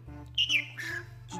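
A bird gives a few short squawking, chirping calls up close, with a low steady hum underneath.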